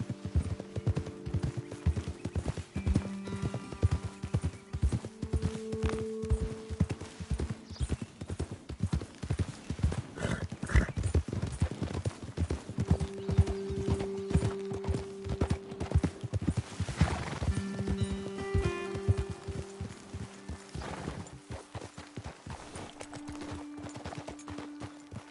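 Horses' hooves clip-clop steadily in Red Dead Redemption II as riders move along a trail, a dense, continuous rhythm of hoofbeats close by, with occasional whinnies and a low musical backdrop.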